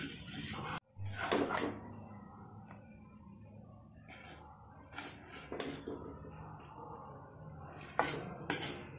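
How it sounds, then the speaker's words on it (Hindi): Sarson ka saag is scooped from a pan into a bowl, giving faint, scattered metal scrapes and clinks of utensil on cookware, spaced irregularly in a quiet kitchen. "साग को हम बॉल में निकाल लेंगे"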